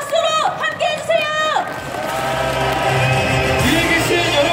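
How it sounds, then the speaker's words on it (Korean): A crowd at a party launch ceremony cheers and shouts in a broad, sustained roar, with loud voices rising over it at the start before the noise settles into a steady swell. "여러분 뜨거운 박수로 함께 해주세요"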